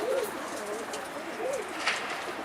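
A pigeon coos softly several times in a slow, repeating pattern, close by on a rooftop, over a light background hiss.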